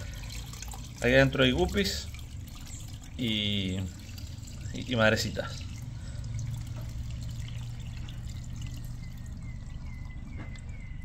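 Water pours steadily into a small garden pond holding guppies, a low continuous rush running beneath someone speaking Spanish in short bursts.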